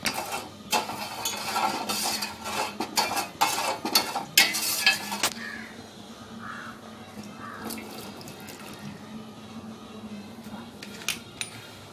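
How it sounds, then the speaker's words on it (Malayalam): Pieces of fruit being stirred in sugar syrup in a pan on the stove, with a burst of clacking spoon strikes and wet stirring early on, then a quieter simmering bubble with occasional clicks. "നമുക്കിതൊന്ന് ഇളക്കി കൊടുക്കാം."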